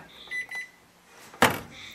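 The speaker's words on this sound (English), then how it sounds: "And 3 hours later, it beeps." A Zojirushi bread machine sounds a short electronic beep when its baking cycle finishes, a few faint tones followed by a louder burst, heard alone in a quiet kitchen.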